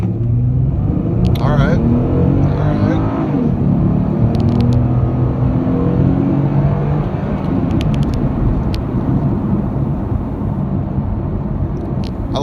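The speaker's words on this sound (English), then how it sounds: "I will come to a stop here, and we'll give it a go. Alright, foot to the floor." A tuned 2011 V6 Mustang accelerates hard, with a loud, close, low engine rumble that holds throughout and a voice heard briefly over it.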